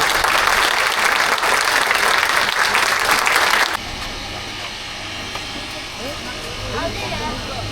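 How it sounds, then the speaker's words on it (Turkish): Loud, dense applause from a crowd for a few seconds, then it stops abruptly, leaving quieter background murmur. "Güçlü alkışlarınızla."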